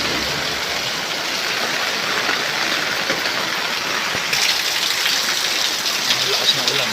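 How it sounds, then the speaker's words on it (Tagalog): A heavy, relentless downpour during a stormy flood day hisses loudly and evenly, a dense steady roar of rain that swells slightly partway through. "Ang lakas ng ulan,"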